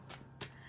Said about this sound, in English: Right now, I am shuffling the Angelic Activations Oracle by Kyle Gray.